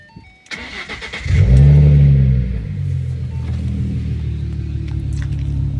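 A 2012 Ford Mustang with a 3.7 V6 and a muffler delete fires up with a loud burst and then settles into a steady, deep, rumbling idle close by.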